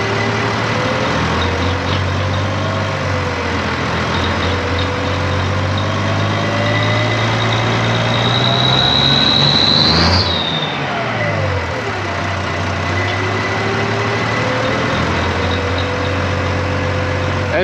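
The diesel engine of an IHC 1055 tractor idles steadily close by, then revs up once, climbing in pitch before dropping quickly back to a low, even idle.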